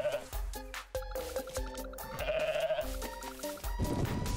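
Goat bleats in Goat Simulator, several harmonic cries in quick succession layered over game music and squishy effects, loud and close.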